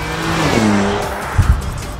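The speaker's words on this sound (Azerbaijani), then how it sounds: "Porsche Cayenne dedikdə insanın ağlına ekstremal sürət ilə bərabər həyəcan verici və qan coşduran mühərrik səsi də" A Porsche Cayenne engine revs loudly and close, its note climbing and holding for about a second before a couple of deep thumps near the end, with no voices.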